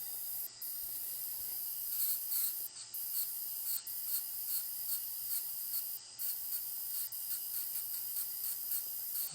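A rubber polishing cup on a dental handpiece works over a composite veneer restoration, producing a steady high-pitched hissing, rubbing whir with brief breaks and pulses. It sounds close and continuous, with no talking.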